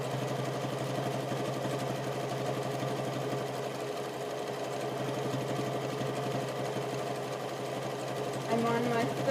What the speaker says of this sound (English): I should be pretty much perpendicular to the sewing surface as I zigzag stitch.